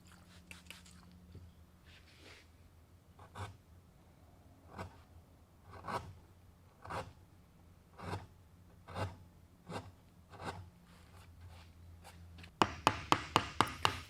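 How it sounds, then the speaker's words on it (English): Gouge and mallet hand-carving a cypress trestle table part, heard as regular, fairly quiet knocks spaced about a second apart, ending with a quick run of sharper, louder taps. "just got the big gouge and the mallet and roughed it to shape"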